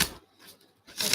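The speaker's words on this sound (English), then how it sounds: "Let's just shuffle." Tarot cards being shuffled during a live reading, heard as two short bursts of papery riffling separated by a near-silent pause, close and fairly quiet.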